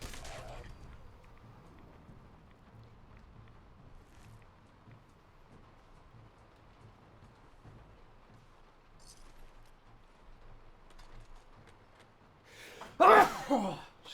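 A single human sneeze comes after a long, quiet, building pause of faint background hum, then bursts out near the end, close and sharply loud, with no words spoken.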